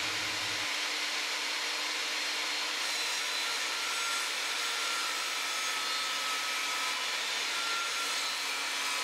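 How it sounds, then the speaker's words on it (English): A table saw rips thin 3mm plywood into strips, giving a steady, continuous whining cut that lasts throughout at moderate loudness, with no talk. "What we're going to do is cut this 3mm plywood up into strips to make the flaps for the flap"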